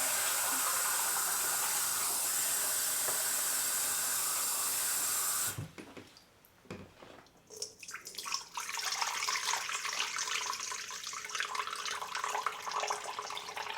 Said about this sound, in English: Now we are going to add the water.